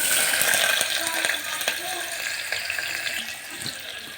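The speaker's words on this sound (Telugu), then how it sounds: "ఇప్పుడైతే ఆనియన్స్ అయితే వేసుకోవాలి అత్త" Onions frying in hot oil in a home kitchen give off a dense, loud, continuous sizzle and crackle, with a few faint clinks of stirring underneath and no talking.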